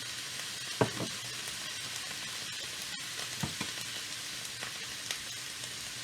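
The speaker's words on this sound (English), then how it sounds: "And let that just saute there." Italian sausage sizzling steadily in a hot pan with a splash of rice vinegar, a constant frying hiss with a few soft stirring clicks and scrapes.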